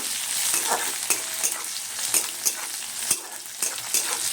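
Onions sizzling in hot oil seasoned with cumin seeds while a spoon stirs through them, giving a steady close frying hiss broken by regular scraping strokes; no voices.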